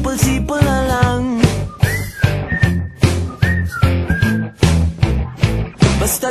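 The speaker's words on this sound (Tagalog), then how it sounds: "Pasipol-sipol na lang." Melodic human whistling carries a tune in a pop song, the clear notes riding over a steady bouncing beat and accompaniment.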